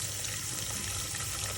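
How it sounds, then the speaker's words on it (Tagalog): Hot water running from a kitchen tap into a cooking pot of sopas, a steady, even rushing splash that holds throughout without pauses. "Lagyan lang natin ng tubig. Mainit yung tubig na yan. Galing sa gripo."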